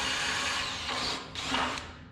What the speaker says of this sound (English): I've got to drill these 2 holes